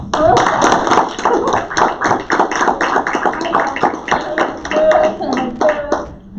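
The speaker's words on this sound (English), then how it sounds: "Let's clap." A small group at a school board of education meeting claps briefly, with uneven, close, fairly loud claps and taps mixed with voices talking.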